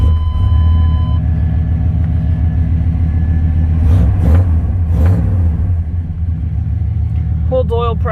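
A 1995 GMC 1500 pickup engine runs at a steady idle close by, a constant low rumble with a couple of brief revving swells midway and a faint rattle near the end.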